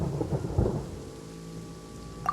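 Thunder rumbling through a storm in Genshin Impact, a low broad roll that swells early and then fades into a steady rainy hiss, with a faint tonal ring and a small burst at the very end.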